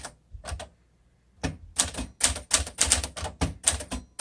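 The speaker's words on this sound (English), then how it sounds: "let's go ahead and start our typing demo" Keys clacking on a 1952 Smith Corona Sterling manual vintage typewriter, crisp percussive strikes in uneven bursts after a brief pause, close and clear with no talking.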